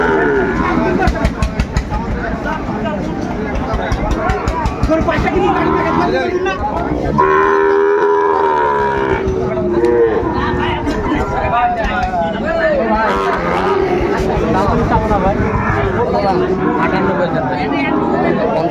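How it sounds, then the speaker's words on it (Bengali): Sahiwal breed bull calves and cattle low and moo at a busy cattle market, loud and close, with one long drawn-out moo in the middle over constant crowd chatter and bargaining voices. "শাহিওয়ালের বাচ্চা।"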